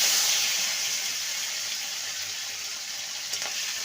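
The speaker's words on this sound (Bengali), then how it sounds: "এবার একটা টমেটো কুচি দিয়ে দেবো" Chopped medium tomato hits hot oil after a dried red chilli tempering for a bottle gourd dish, giving a bright, steady sizzle that starts loud and settles slightly, with no voices.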